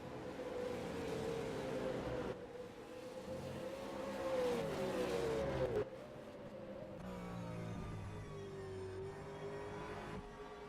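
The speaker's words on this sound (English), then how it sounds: "look at this under brakes. That's going to burn those tyres." V8 race cars in a sim racing league at Sydney Motorsport Park, engines braying at high revs then dropping in pitch under heavy braking, with downshifts and a second car's engine layered in, continuous and fairly close.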